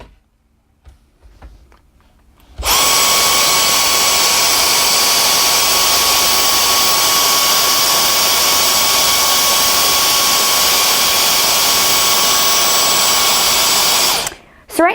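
A Dyson DC44 or DC35 Digital Slim cordless stick vacuum starting up, whining at a constant high pitch on a tile floor for about twelve seconds before cutting off, with a few clicks and handling noises before and after.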